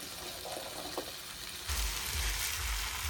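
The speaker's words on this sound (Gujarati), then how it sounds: "તો હવે આ ટામેટું ચડી ગયું છે એટલે આંબલીના દાણા નાખી દઈએ." Tamarind seeds added to tomato cooking in a pan, a quiet steady hiss that swells into a louder, fuller sizzle halfway through as the seeds go in.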